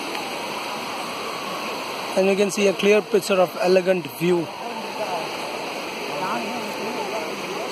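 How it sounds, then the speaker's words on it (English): Steady broadband rush of a waterfall and streams at Siruvani near Coimbatore, with bathers nearby, running continuously while someone speaks over it in the middle of the clip. "That is waterfall over here"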